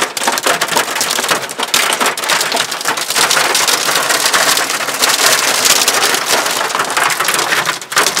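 Hail pelts down hard during a Colorado storm, a dense, continuous clatter of ice striking surfaces nearby, loud and unbroken with no talking.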